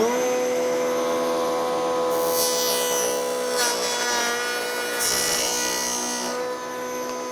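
Router table cutting wood, a loud, steady high-pitched motor whine with two rising bursts of cutting noise as the stock passes the bit, close up and without talk.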